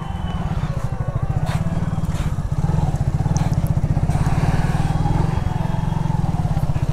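A 125 cc TVS Raider motorcycle engine throbs steadily and loud while riding, with a low rapid pulsing and rushing wind noise throughout, and faint talk underneath.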